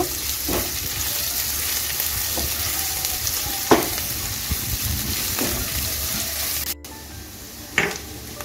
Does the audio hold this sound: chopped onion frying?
yes